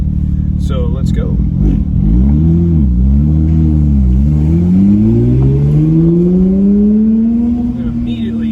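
A Porsche 992 GT3 fitted with a JCR exhaust pulls away from a standstill, its engine note climbing in pitch through the gears with a brief dip at a shift, loud and close from inside the car.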